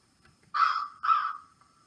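Two harsh caws from a crow sound in quick succession, clear and moderately close against a quiet background.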